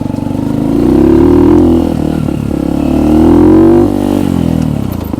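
A Kuba Race 125 motorcycle engine drones loud and close while riding, its pitch rising and falling through two broad revving swells before easing off at the end.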